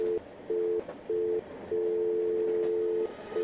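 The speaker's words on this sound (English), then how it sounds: "I'm going to get a dial tone that does something too." A telephone tone in an escape room video game set on a train: short, evenly spaced steady beeps, then one long sustained tone and another short beep. The tone is clear and close, with no talking.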